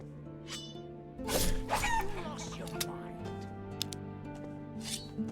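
Chickens cluck in the Harbor Town area of the video game Risen, a few short bursts near the start over a steady musical game score, with low talk also present.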